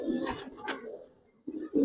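Duck-footed pigeons in a loft give low, soft cooing in a few short rounded bursts, one near the start, another just after, then two more toward the end, fairly close and unaccompanied by talk.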